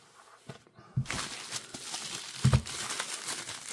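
A cardboard box being cut open during an unboxing, heard as close crinkling, scraping and tearing bursts with a sharper rip near the middle and again toward the end, with no talking.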